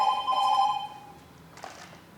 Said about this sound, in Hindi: अरे फोन बजा, किसका फोन है?